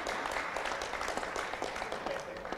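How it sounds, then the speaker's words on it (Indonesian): Applause from a comedy audience at a public dialogue event in Maluku, Indonesia, a steady, fairly dense clapping that holds for a few seconds at moderate level, with a faint tonal sound near the end. "Boleh tepuk tangan ya?"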